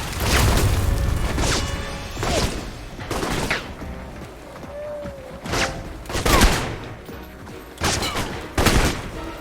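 Gunfire in a video game set in Rome: several loud bursts and single shots ring out at irregular intervals across the stretch, with debris and mechanical clatter in between.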